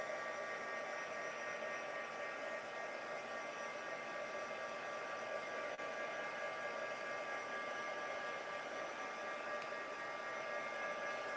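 A heat tool blows hot air over a stamped greeting card. It makes a steady, moderately loud whooshing roar that holds without a break throughout, with no voices over it.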